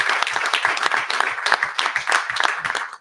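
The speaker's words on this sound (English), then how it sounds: "So you're welcome to applaud if you like." Sparse applause from a small crowd at an armored MMA fight event, individual hand claps distinct and irregular, fairly close and uneven in loudness over a few seconds.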